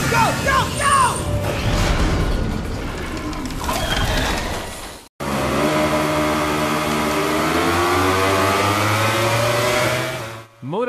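Motorcycle engines in the racing simulation game MotoGP 23 rev with a steady rising pitch through the second half, loud and sustained, following a stretch of unrelated game noise and cut off abruptly near the end.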